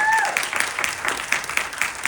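An audience at a Clarke County, Georgia mayoral forum applauds, the clapping rising in uneven bursts over about two seconds, with a brief voice early on.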